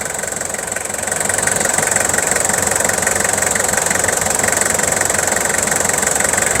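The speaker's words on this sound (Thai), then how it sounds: "ฟังเสียงเครื่องนิ่มๆเนียนๆนะครับ" A Toyota Commuter 3.0 GL high-roof van from 2000 with its 5L diesel engine idles steadily, a smooth, even rumble with a light knocking clatter, close and constant throughout with no talk.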